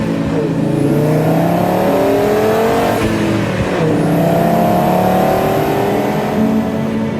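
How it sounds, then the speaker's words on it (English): An Audi five-cylinder engine revs hard as the car sweeps past, its rising and falling howl swelling twice in close succession, loud and near throughout. "Whenever a car like that is passing by, you hear this is a 5-cylinder."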